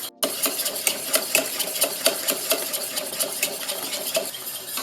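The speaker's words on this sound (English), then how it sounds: "keep whisking" A whisk beats rapidly against a pan of cheese sauce seasoned with togarashi pepper, a fast, even metallic clatter repeating several times a second, close and loud with no speech.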